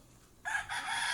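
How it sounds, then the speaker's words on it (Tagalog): Rooster crowing at a neighbour's place in Dumanjug, Cebu, a single short crow that starts abruptly and carries on briefly, moderately loud against quiet surroundings. "Dahil po manok dito."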